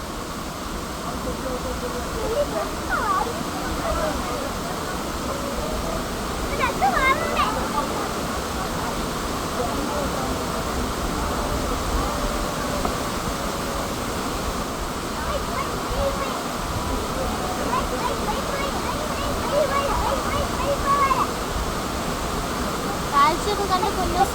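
Marmala Waterfalls in the rainy season rushes in a steady, dense roar that fills the whole stretch without a break, with faint voices now and then beneath it.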